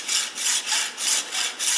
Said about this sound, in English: After cutting off this plastic piece, you're left with a nice large stainless steel tube.